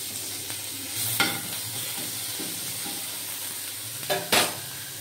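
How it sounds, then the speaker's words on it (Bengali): Nigella seeds and onion paste sizzle steadily in hot oil while fish is being prepared for a tawa fry, with a soft constant hiss and a few sharp utensil clinks on the pan. "অল্প জাস্ট একটুখানি কালো জিরে দিয়ে দিলাম, তার সঙ্গে একটু দিয়ে দিলাম পেঁয়াজের বাটা"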